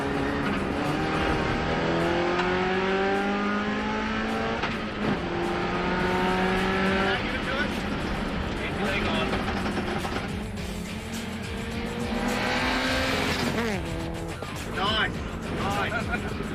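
A car engine pulls hard in third gear on a test drive, its loud roar climbing steadily in pitch, easing off and then building again, close and continuous for the whole stretch with occasional voices under the noise.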